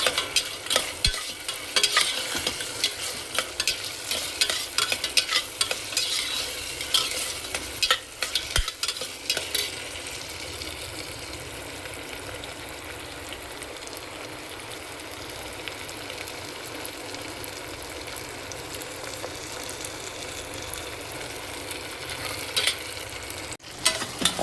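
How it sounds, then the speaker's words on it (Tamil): Tomatoes fry in a pan for chicken biryani, a continuous sizzle with frequent scraping stirs of a spoon against the pan, busier at the start and end, close and without talking. "தக்காளி நல்லா வதங்கணும்."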